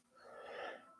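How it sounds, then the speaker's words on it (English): One person gives a single soft, breathy yawn late at night, about a second long, rising and fading, faint and close. "You notice or witness that I am yawning quite a bit because it's way past my bedtime hour of 11 p.m."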